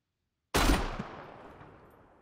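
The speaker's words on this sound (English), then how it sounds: "Can we see an explosion?" A grenade launcher round explodes in the SCUM video game, one sudden loud blast after brief silence, followed by a long rumbling decay that fades over about a second and a half.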